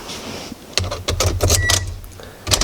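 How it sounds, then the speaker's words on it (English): Keys jangle close by in a dark garage next to a 2016 Toyota Corolla LE Plus, with several bright metallic rattling bursts over a low hum. "Gotta get my keys here."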